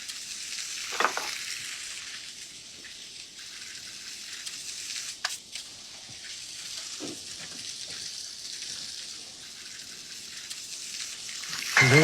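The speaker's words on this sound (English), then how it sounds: "Okay, you can see it's smoking. So we're gonna go ahead and lay our sole in." Sole fillet sizzling in a hot, smoking pan, a steady soft frying crackle and hiss throughout with a few faint clinks, fairly quiet and close, no talking.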